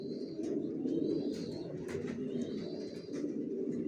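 Racer pigeons coo together inside a loft, layered low burbling calls close by and continuous, with a few faint chirps above them.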